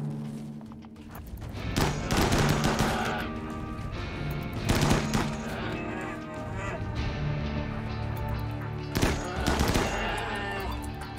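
Colonists firing guns in RimWorld, short bursts of rapid gunfire recurring every few seconds over a dense, steady background of game sound.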